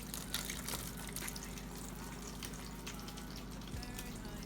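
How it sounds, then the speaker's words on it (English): Water poured from a container onto compressed peat seed pods in mesh wrappers, set in a small seed-starting greenhouse tray; a steady, close splashing trickle runs throughout over a low constant hum. "You just pour your water in."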